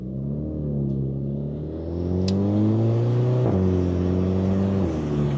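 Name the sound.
Volkswagen Jetta GLI exhaust popping on gear shift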